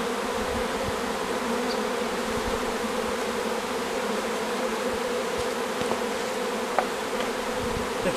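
A swarm of honey bees buzzes continuously in a dense, steady drone, close and even in loudness, with no voices.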